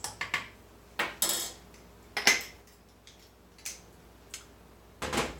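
Muffin batter made from gluten-free cake mix with chia or poppy seeds is stirred in a bowl, giving sparse, close clinks and scrapes of utensil against the bowl with quiet pauses between.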